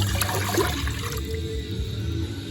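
About four cups of vegetable broth pour from a carton into a crockpot in a loud, continuous gush of liquid that softens slightly toward the end.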